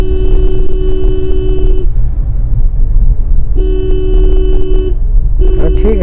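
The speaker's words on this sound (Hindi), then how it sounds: "फिर हॉर्न दो" A car horn honks loudly in two long blasts followed by a shorter toot, over the constant rumble of a running engine.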